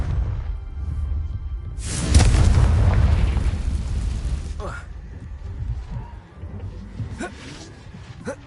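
The Confringo fire spell detonates in a Harry Potter video game as one loud, booming explosion. A roaring blast swells and rumbles for a couple of seconds, then decays into game noise with scattered smaller pops.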